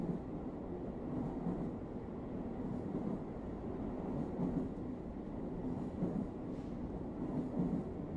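A train in the Security Guard Simulator video game gives off a steady, low rumble and rattle that carries on without a break and stays fairly quiet throughout.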